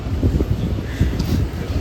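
Steady wind buffets the microphone in low rumbling gusts outside the U.S. Capitol, filling the short stretch with a constant rough whoosh.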